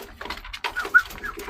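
An all-black racing pigeon coos in a loft in New York City, a few soft, close, throaty murmurs with brief pauses between them and a light chirp among them.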